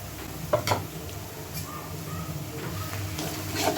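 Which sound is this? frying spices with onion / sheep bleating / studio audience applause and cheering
frying spices with onion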